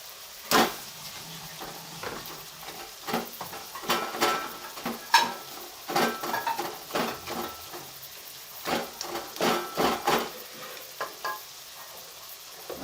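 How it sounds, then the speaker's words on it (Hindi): Minced mutton goes into a hot pan with onions and sizzles steadily while a spoon stirs and scrapes it in repeated strokes. The sound is close and unbroken, with no talking. "साथ ही कीमा डाल देंगे।"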